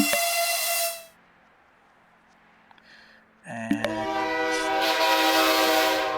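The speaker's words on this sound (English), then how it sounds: "The whistle's going there." A steam train whistle in the Voxel Tycoon video game blows loud at the start, then after a quiet gap a second long whistle sounds over hissing steam and rail noise that carry on to the end.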